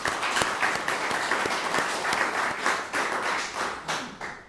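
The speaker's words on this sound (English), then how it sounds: "So I'd like to applaud the family" An audience applauds at a ceremony in Ireland, a steady burst of clapping from many hands, fairly close and continuing throughout with no talk.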